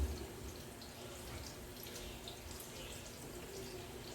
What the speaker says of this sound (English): Let me rinse my hands